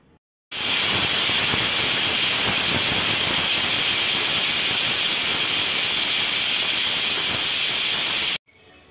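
A pressure cooker on a gas stove lets out a loud, steady hiss of steam that starts abruptly, holds constant for about eight seconds, then cuts off sharply.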